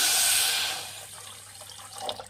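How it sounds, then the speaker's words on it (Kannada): Water poured into a pot of sugar for syrup while making Gujarati atta barfi, a bright rushing pour at first that fades into soft trickling and a few small splashes. "ಸಕ್ಕರೆ ಮುಳುಗುವಷ್ಟು ಮಾತ್ರ ನೀರು ಹಾಕ್ಕೊಳ್ಳಿ"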